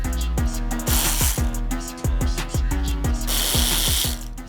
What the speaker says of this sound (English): I will grab a 4mm Allen, and we will extract the following 2 fasteners